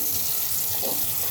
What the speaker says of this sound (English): Turn the water on to the appliance